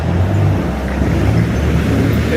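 Dense morning traffic on a New York City street, many cars rumbling past in a steady, loud wash of engine and tire noise with no break and no voices.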